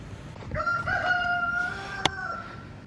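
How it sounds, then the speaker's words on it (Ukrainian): A rooster crows once in a long, drawn-out call at moderate distance at a holiday village in Turkey, with a sharp click near the end and light background noise. "Тут навіть є півень, який кукурікає."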